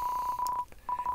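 Landline telephone in the video game Deltarune, giving electronic dialing beeps: a steady tone broken by short gaps into several quick keypad blips, clear and alone.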